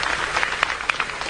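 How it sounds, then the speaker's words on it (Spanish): Audience applause for the reader Marosa di Giorgio at a literary reading, a steady patter of many hands clapping close by, with louder individual claps standing out now and then and no talk over it. "pedimos entonces un fuerte aplauso para Marosa"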